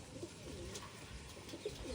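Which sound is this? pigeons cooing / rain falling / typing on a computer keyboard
pigeons cooing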